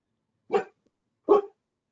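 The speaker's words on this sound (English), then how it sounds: "I just heard that someone's dog may be barking" A dog barks twice, about three-quarters of a second apart, with short, clear barks and no other sound around them.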